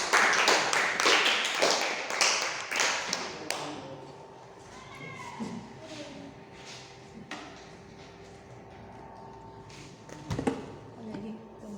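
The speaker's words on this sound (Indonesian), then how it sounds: "Kita beri dulu tepuk tangan buat Bella dan Amran." Students in a classroom clap their hands in a dense, fairly loud burst for the first few seconds, which then trails off into quieter room noise, a few thumps and low talking.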